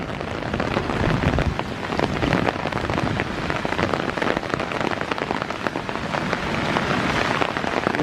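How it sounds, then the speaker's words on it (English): Heavy rain pouring down during a thunderstorm at Iroquois Park, a dense close hiss of drops pattering on surfaces, steady and loud for the whole stretch, with no talking. "It is pouring down."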